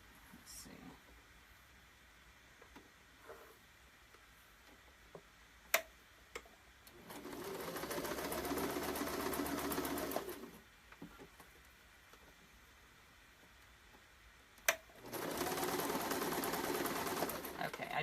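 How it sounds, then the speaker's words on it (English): A sewing machine top-stitches a leather ID wallet in two bursts of steady mechanical whirring and rapid ticking, separated by quiet pauses with small handling clicks and faint low sounds. "So let me move this back over to my sewing machine."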